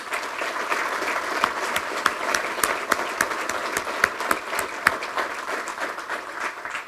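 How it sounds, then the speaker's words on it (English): An audience at the 2016 Orange County State of the County event applauds steadily, a dense wash of many hands with sharper individual claps popping out, sustained without talk. "You deserve the clapping twice"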